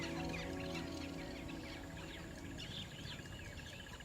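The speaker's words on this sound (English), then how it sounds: "Amidst the rustle of dry leaves and the calls of birds on the plains" Birds call on dry open plains, a scatter of faint high chirps and twittering notes over soft continuous rustling and low hum, distant and gentle throughout.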